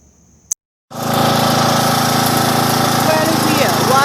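An old lawn tractor engine starts after a brief click and silence, then runs steadily at a loud, constant rough idle right next to the listener.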